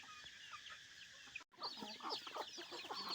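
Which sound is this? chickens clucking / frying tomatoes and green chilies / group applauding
chickens clucking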